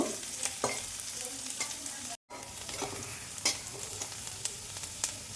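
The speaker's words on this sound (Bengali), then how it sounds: "দেখো এখানে পেঁয়াজ কুচানো দিয়ে দিলাম একটু পেঁয়াজটা একটু ভেজে নেব" Chopped onion sizzles steadily in hot oil in a kadai, with repeated scraping stirs and a brief gap midway; no voices.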